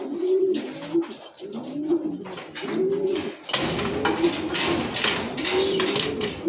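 Hungry racing pigeons crowd in at feeding time, a dense mass of overlapping coos and throaty calls with wing and scuffling noise rising into a busier flurry partway through, close and steady throughout.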